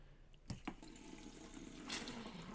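Faucet in a fifth-wheel RV running on the cold side, pushing pink antifreeze through the line during winterizing; a steady low splash and trickle of liquid continues throughout, with a couple of brief knocks near the start and a surge toward the end.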